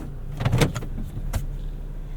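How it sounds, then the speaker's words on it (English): Passenger power window on a Toyota Tacoma Trailhunter rolling down, a brief motor whir over steady cabin and engine rumble, with a faint thump near the end of travel. "we'll roll down the passenger window so we can hear that intake"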